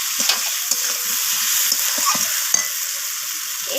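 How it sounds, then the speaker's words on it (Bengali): Bhetki fish bones frying with salt in a pan, a steady close sizzle broken by repeated scraping strokes of stirring throughout, no voices. "লবণটাকে দিয়ে আমি আবারও নাড়াচাড়া করে মিশিয়ে নেব"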